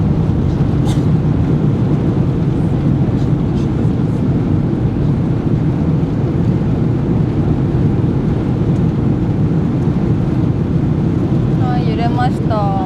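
Loud, steady cabin roar with rattling inside a government charter airliner just after landing, a dense constant rumble throughout, with a brief squeaky sound near the end and no talking.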